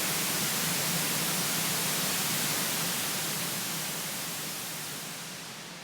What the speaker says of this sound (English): white noise, got a bit of hump at the bottom,